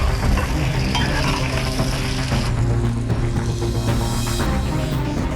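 Fish and vegetables stir-fry in a wok in a busy competition kitchen, with a constant loud sizzle and the scrape and clatter of stirring running without a break.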